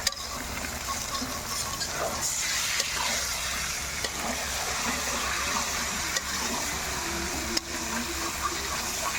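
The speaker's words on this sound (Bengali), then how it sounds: "একটু নাড়াচাড়া দাও লেগে যাবে নিচ থেকে" Three kilos of chicken fry in a pot for a chicken dish with mango leaves and apple, a constant close sizzle broken by periodic clanks and scrapes of a spoon stirring.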